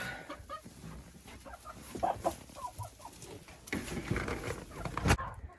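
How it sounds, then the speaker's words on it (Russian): Young hens cluck and chatter in a busy, overlapping chorus nearby, with scattered scratching and a sharp knock near the end. "В 3-м вольере у меня тоже молодые курочки."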